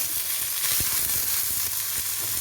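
Ivy gourd and ridge gourd hit a hot pan for a Kerala thoran, giving a steady close sizzle with a few soft stirring knocks, no voices.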